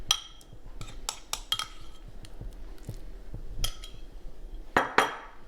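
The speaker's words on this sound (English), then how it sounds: "Just throw everything in a bowl and mix well" A utensil mixes cheese, parsley, salt, pepper and beaten eggs in a bowl, producing scattered clinks and taps against the bowl with soft scraping between them, close and moderately quiet, with no voices.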